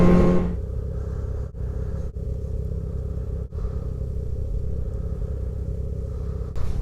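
A Ski-Doo-style 858 R-XC snowmobile engine runs steadily on a first ride of the year in Canadian snow, a close, even mechanical drone with a few brief dips and no talk over it.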